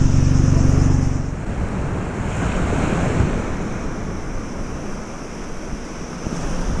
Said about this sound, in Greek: Δυστυχώς έχει κύμα.